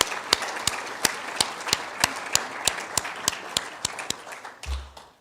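Church congregation applauding two honoured members, with a steady run of sharp, distinct claps spaced about a third of a second apart, fairly close and clear, fading out near the end.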